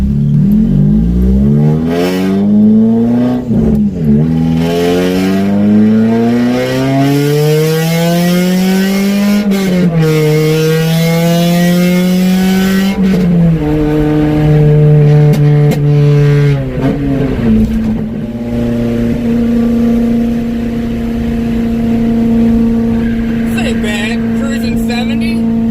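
Fourth-generation Honda Prelude with a custom side-exit exhaust, loud engine note rising and falling in pitch as it accelerates through gears, steady and close throughout, with a strong sustained drone toward the end.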